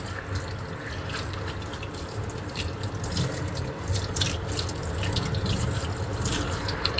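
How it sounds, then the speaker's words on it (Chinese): Running tap water splashes steadily into a kitchen sink as hands are washed mid-way through preparing stuffed tofu, a continuous close hiss with small irregular splatters and no talking. "等我一下，我洗一个手哈，我洗一个手"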